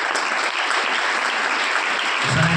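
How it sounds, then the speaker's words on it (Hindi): A church congregation at a Hindi-language worship service applauds loudly and steadily, with dense clapping filling the whole moment. "उस यीशु के लिए एक जोरदार ताली।"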